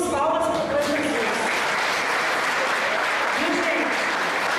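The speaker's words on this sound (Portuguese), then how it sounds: "Palmas para Jesus!" A charismatic Catholic congregation in Brazil applauds at a Pentecost-themed gathering, with loud, continuous clapping from a large crowd filling the space throughout.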